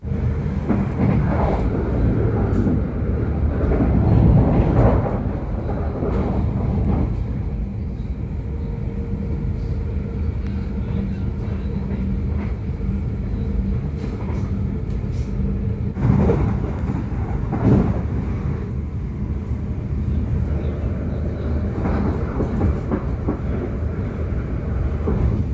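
A long-distance train runs through Amsterdam at around 140 to 160 km/h, a steady low rumble and rolling roar inside the carriage that swells slightly at times, with faint rattles and no speech.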